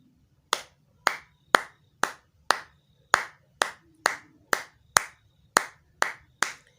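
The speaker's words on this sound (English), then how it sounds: "just hear me clap my hands as an object of sound" Hands clap sharply about thirteen times at a slow, steady pace, each clap crisp and isolated against a quiet background.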